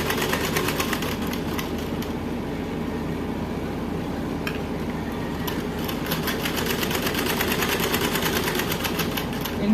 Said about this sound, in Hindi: बाहों में फिटिंग देने के लिए बैक साइड से सिलना शुरू करती हूँ